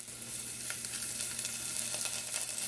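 Onions and green chilies sizzle in a hot pan, a steady bright hiss and crackle, close and continuous, with faint stirring scrapes.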